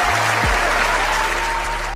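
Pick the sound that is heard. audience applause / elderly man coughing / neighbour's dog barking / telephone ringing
audience applause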